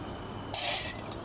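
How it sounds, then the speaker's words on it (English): Water poured from a container into a metal cup sitting on a camping stove, a short splashing gush that starts abruptly and tails off after about half a second, close and fairly quiet with no speech. "So I'm going to put quite a lot of water in there and then probably reboil to make a brew with."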